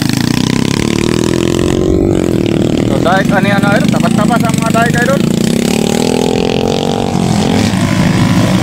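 A motorcycle engine runs and revs on a muddy track, a loud steady drone that rises and falls, heard under someone talking continuously.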